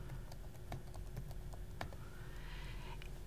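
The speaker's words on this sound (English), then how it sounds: "I'm going to type in a file name" Keys clicking on a computer keyboard while a file name is entered in quilting design software, a quiet irregular run of taps with no talking.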